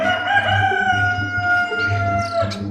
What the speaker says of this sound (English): if you heard that rooster crow